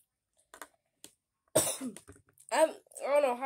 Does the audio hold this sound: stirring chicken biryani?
no